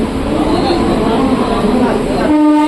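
Train noise at Thane railway station, a steady rumbling rail roar with a brief tonal horn or brake whine near the end, under background chatter and station bustle.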